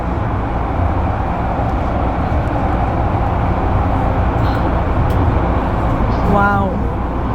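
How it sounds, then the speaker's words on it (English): Light rail train travelling fast, heard from inside as a steady loud rumble and rushing noise throughout, with a brief squeal of wheels or brakes near the end. "I'm using the fast train, and it's really fast with this."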